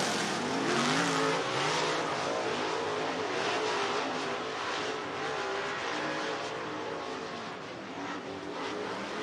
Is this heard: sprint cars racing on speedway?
yes